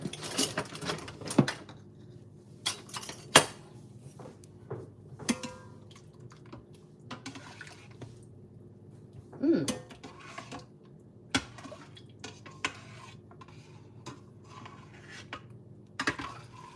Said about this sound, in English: let's stir that around a bit